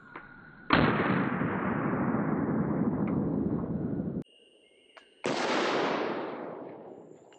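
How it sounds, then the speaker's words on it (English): Two loud, sharp blasts from a Beretta pistol firing .45 ACP rounds, each followed by a long, ringing echo that fades out, fired at a Battle Steel Level IIIA+ armored car seat organizer, with a short quiet gap between them. "But 45 ACP out of the Beretta"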